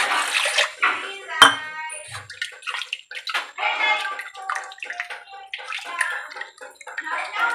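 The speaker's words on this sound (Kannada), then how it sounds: "ಇದಕ್ಕೊಂದು ಸ್ವಲ್ಪ ನೀರು ಹಾಕೊಳ್ತೇನೆ" Water is poured into a mackerel fish curry masala in a coastal-style kitchen, giving a close splashing pour that runs through most of the stretch with a voice talking over it.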